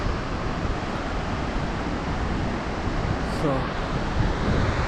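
Basachu waterfall in Wangduephodrang, Bhutan roars as a steady, unbroken wash of falling water heard from fairly close, with a brief voice speaking partway through.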